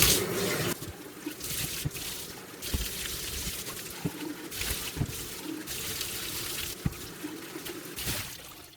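Running water splashes and trickles in uneven bursts, close by, with occasional knocks as a whole-house water filter housing is rinsed.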